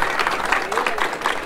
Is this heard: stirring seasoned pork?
no